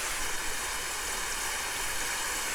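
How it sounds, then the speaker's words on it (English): Heavy rain and wind in The Innocent Luna make a steady dense hiss, a constant wash of noise with no breaks and no talk. "The heavy rain can be heard far and wide"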